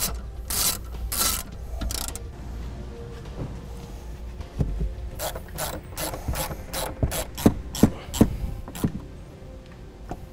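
A ratchet tightens the hardware holding the battery in a 2013 BMW 5 Series, with a few bursts of clicking early on, then a run of quick, sharp ratcheting strokes in the second half, close and moderately loud.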